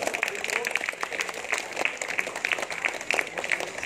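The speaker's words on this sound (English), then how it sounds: "Claps, claps, please." Steady applause from an audience at a karate award ceremony, a dense wash of many hands clapping at moderate loudness throughout, with no voices over it.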